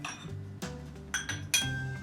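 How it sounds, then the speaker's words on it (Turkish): A drinking glass set out for making şalgam suyu clinks several times as it is picked up, bright ringing taps over a soft low hum, close and distinct. "İşte şimdi güzel bir bardak alalım."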